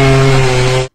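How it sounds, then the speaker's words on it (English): A chainsaw sound effect gives a short, loud, buzzing engine drone that holds steady for under a second and then cuts off sharply. "And then there was the sound of a chainsaw."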